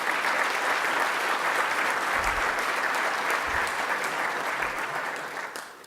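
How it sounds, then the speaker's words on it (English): Sustained applause from the audience at a school groundbreaking ceremony for KIPP Cooper Norcross Academy in Camden, a dense wash of many hands clapping steadily at moderate distance, tapering slightly at the end. "Please give yourselves a round of applause"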